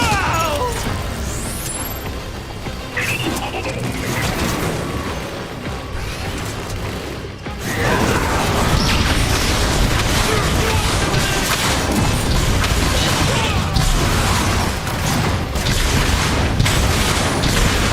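Rocket attack explosions in the Transformers: War for Cybertron video game, a dense, loud barrage of booms and mechanical clatter that swells sharply partway through and keeps rumbling continuously to the end.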